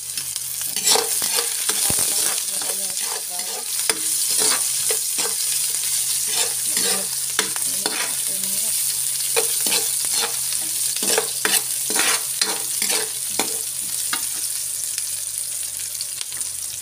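Onion fries in a pan for pansit bihon, a continuous sizzle broken by repeated rhythmic stirring and scraping strokes close up, with no talk.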